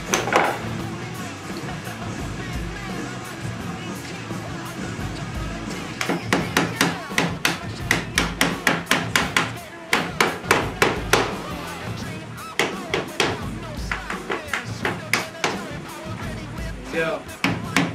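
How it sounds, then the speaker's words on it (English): Hammer blows nailing boards for concrete forms, starting after a quieter stretch of background noise and then striking in steady bursts of sharp, close, repeated hits with brief pauses between runs. "Grab a hammer."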